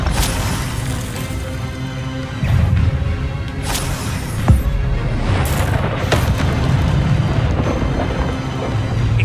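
Incendio fire spell cast over and over in Hogwarts Legacy, heard as a loud, continuous roaring blast with repeated booming, crackling bursts and crashes throughout.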